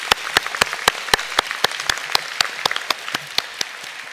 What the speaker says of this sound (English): they also deserve a round of applause